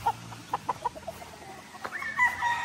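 A gamefowl rooster of the Boston Millionaire bloodline gives a series of short, soft clucks close by, then a brief drawn-out higher call near the end, fairly quiet over a low background.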